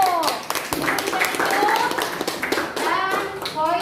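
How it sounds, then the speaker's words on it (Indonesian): A group of schoolchildren claps in a classroom activity, a quick patter of hands over children's voices and talk throughout, fairly loud and close. "tepuk tangan dulu"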